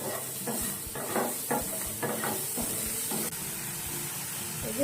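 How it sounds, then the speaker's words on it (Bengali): Potatoes and eggplant being stirred in a hot oiled pan: a steady sizzle of frying with a run of rhythmic scraping strokes from a spoon, close and fairly loud, with no talking. "আলু বেগুনটা দিয়ে দিলাম দিয়ে একটু নাড়াচাড়া করে নিই"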